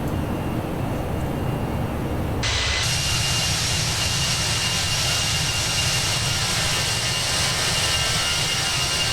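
Airbus A319 jet engines in the Toliss flight simulator, a steady loud roar with a broad whine that shifts brighter partway through and then holds continuously, with no talking.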